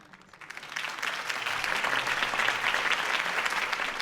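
A crowd claps and cheers after a campaign speech in a Batman video game, the applause swelling quickly and holding steady and dense.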